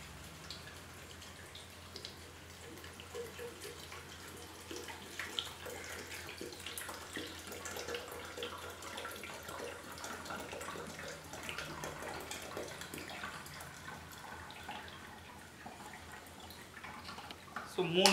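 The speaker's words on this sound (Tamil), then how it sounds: "இப்போ நாலாவது தடவை சுத்தமான தண்ணியை வந்து இதில் போடுறேன்." Clean water poured into a Vestige Sharp water purifier pitcher makes a faint, steady trickling and splashing that runs on for many seconds, quiet and close, under a speaking voice.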